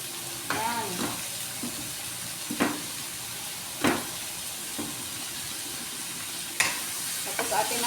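Sayote and potatoes stirred in a frying pan, with a steady soft sizzle and several distinct scrapes and clinks of a utensil against the pan at irregular intervals, close and moderately quiet, no talking.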